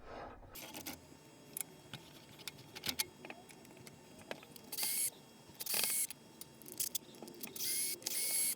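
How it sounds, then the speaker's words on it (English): The tailstock of a wood lathe is removed after turning a natural-edge birch bowl, producing scattered metallic clicks, knocks and sliding scrapes with a few bursts of louder grinding rattle, close and irregular. "I'm just removing the tailstock now"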